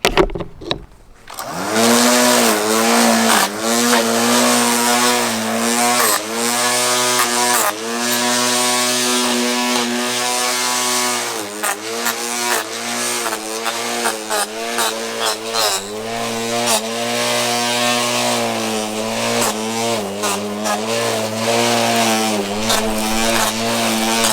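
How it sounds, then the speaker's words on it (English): Ryobi OLT1832 cordless strimmer cutting with RAC155 plastic blades, a loud high-pitched whine running close by that dips and rises repeatedly as it bogs into growth, with no voices. "Okay, so those little strimmer blades actually work pretty well. It's definitely noisier with those blades on"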